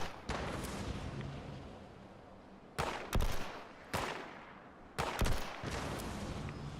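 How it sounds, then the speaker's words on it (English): Gunfire in the video game Fallout 76 rings out as sustained rapid bursts, broken by several sharp loud shot onsets that cut in and out over a few seconds, close and dominant with no talking. "Who's shooting at me?"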